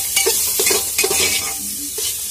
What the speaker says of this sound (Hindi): तो अभी इसको मिक्स कर लेंगे।